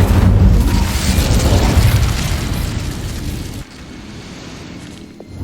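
Incendio fire spell cast in Hogwarts Legacy: a loud, full whoosh of flame that roars steadily for a few seconds, then cuts off abruptly into a quieter, lingering burning rumble.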